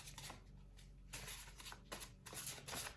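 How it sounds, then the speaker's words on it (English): A deck of tarot cards being shuffled by hand, giving soft papery riffles and flutters in a few quiet bursts with short pauses between them, close and alone. "So it's kind of hard to shuffle this deck."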